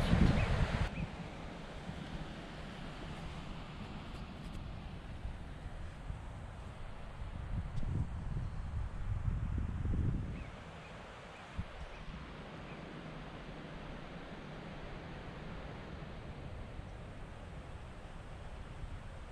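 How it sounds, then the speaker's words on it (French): Wind gusting into a tent during a solo bivouac on the GR58 Tour du Queyras trail, a steady low rush that swells into stronger buffeting midway, then eases back to a soft continuous whoosh. "je mets ma couverture sur lit pour me couper du vent qui rentre un peu dans la tente."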